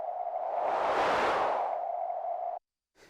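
KORG minilogue xd synthesizer in band pass noise mode: a sustained, filtered noise hiss centred in the midrange that swells and fades for about two and a half seconds, stops abruptly, then briefly returns.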